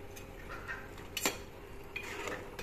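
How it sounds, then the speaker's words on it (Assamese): Assamese-style curry with chili powder stirred in a pot, heard as faint metal spoon clinks and scrapes, with one sharper knock midway over a quiet background. "এনেকৈ আঞ্জাখন এফালৰ পৰা লৰাই দিলোঁ।"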